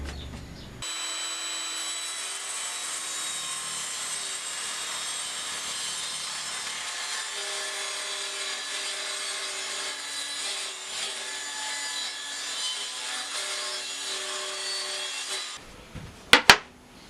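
A table saw rips through 3/4-inch plywood, a steady close whining cut of about fifteen seconds that ends with a couple of sharp knocks as the piece clears.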